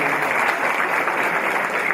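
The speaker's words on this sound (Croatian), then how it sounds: "Kad je aplauz?" Audience applause from a crowd at an evening presentation event, steady dense clapping sustained throughout without a break.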